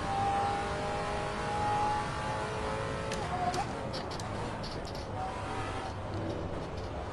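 Car engine in a racing video game, a steady mid-pitched drone with rising revs and a whirring note, with a brief harsher burst midway and continuous game ambience throughout.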